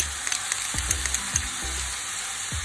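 Shrimp stir-fried with Thai herbs in oil over low heat gives a steady soft sizzle, broken by a few scraping stirs of a utensil in the pan.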